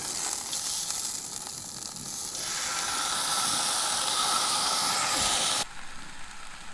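Cheeseburger topped with bacon sizzling on a grill, a steady loud hiss that swells midway and then drops abruptly near the end.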